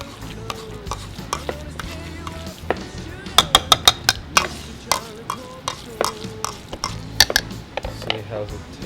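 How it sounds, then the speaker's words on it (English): A seasoned mixture with lime juice, salt and black pepper is mashed and stirred in a bowl, giving irregular clacking and scraping knocks of utensil against the dish at a close range, with brief talk between strokes. "And I'm gonna give it another little good mash"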